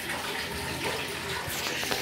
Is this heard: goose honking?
no